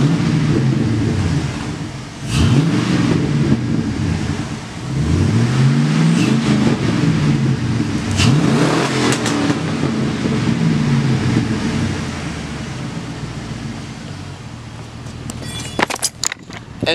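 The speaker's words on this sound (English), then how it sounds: "Now I'm gonna give it a little bit of rev so that you can hear the difference." A car engine, heard after catalytic converter removal, revs up three or four times in slow swells over a rough idle, moderately close, before settling back to idle with a few clicks and handling noises at the end.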